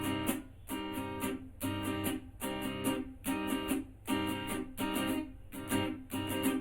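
An acoustic guitar strummed in a down-up-muted pattern for a song from Pati Patni Aur Woh, played close and alone. Bright strokes repeat in steady groups, each broken by short choked, muted hits.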